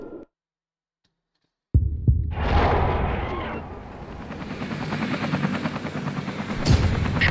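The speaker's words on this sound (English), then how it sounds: "We'll land the chopper nearby." In the video game XIII, a helicopter starts up after a brief silence with a sudden burst, then settles into a loud, throbbing rotor drone that swells again near the end.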